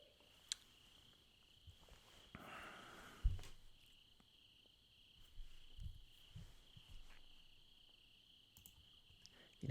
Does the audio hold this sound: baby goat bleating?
no